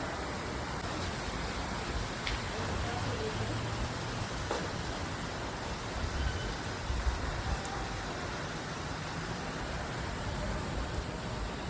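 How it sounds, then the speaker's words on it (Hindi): Steady rain falling on an afternoon in Kolkata, a dense continuous hiss of drops on surfaces with faint occasional taps, even and unbroken throughout with no talking. "अभी दोपहर होते होते इतनी अच्छी बारिश हो रही है"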